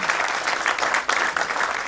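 An indoor audience at a film trailer launch claps loudly and continuously for the cast, a dense wash of applause close by.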